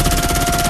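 A rapid burst of automatic gunfire from an action movie shootout in the film Dhaakad, loud and evenly pulsed over a short moment.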